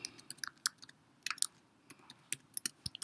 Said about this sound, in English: I have to type a title.